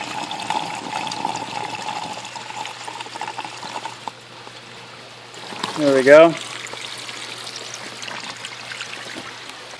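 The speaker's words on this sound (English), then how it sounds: "When we open the drain, if it's going, you can hear it here." Water drains steadily from a homemade microgreen cleaner, a continuous close trickle and gurgle that swells briefly midway, while someone says a few words.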